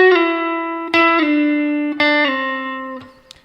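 An electric guitar note is picked once and slid down the neck without re-picking, as in a song. Sustained and upfront, it glides steadily lower through a few fresh attacks, with no voices.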